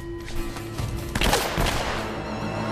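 Gunfire in the PS4 action game Uncharted: a sharp nearby shot cracks out midway amid scattered earlier reports and a busy background of game effects, with no talk.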